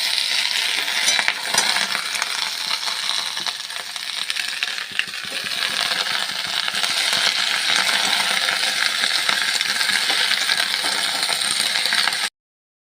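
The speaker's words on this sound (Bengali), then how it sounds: "সব শাকগুলো কড়াই দেওয়া হয়ে গেল। এবার আমি নাড়তে থাকবো।" Malabar spinach frying in a kadai after pumpkin, a bright continuous sizzle broken by metallic clinks and scrapes as it is stirred, close and loud, cutting off abruptly at the end.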